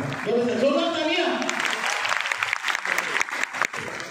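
Loud, dense applause from the audience at a Jashn-e-Talim event in Bhiwandi, sustained through the whole stretch, with a voice talking over the first second or so.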